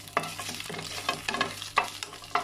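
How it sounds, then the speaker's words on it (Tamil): Dried red chillies sautéing in a pan while making paruppu thuvaiyal, a lentil chutney: a soft sizzle broken by repeated scraping stirs of a spoon, close and fairly quiet. "2 கிள்ளி வச்சுருக்கு வரமிளகாயை போட்டு வணக்கிக்கலாம்."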